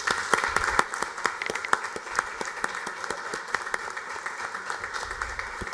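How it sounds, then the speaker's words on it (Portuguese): Applause in a Brazilian city council chamber during an honorary citizenship ceremony, a moderate crowd clapping with distinct individual claps audible, fairly soft and steady throughout. "merece uma salva de palmas."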